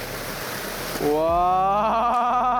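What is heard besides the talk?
river water flowing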